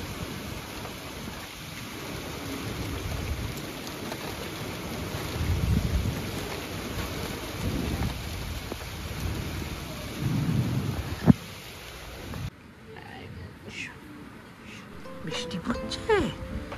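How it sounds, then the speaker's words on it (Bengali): Steady rain falls with rumbling thunder and a sharp crack near the end, the downpour loud and continuous before dropping to quieter dripping and distant rumbles. "বৃষ্টি পড়ছে, বাজ পড়ছে,"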